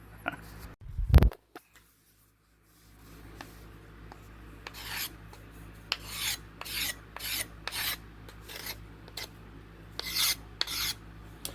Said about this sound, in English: This is the fine scraper, and when I'm roughing, I have the one with the handle on it that I use.